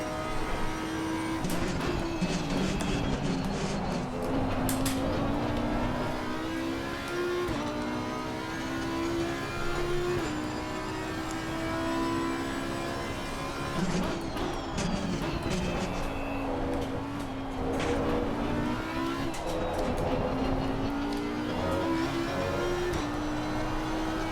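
An Audi R8 Evo race car in the Assetto Corsa Competizione game laps Zolder, its engine droning loudly and continuously, rising and falling with gear changes, braking and acceleration, with no one speaking.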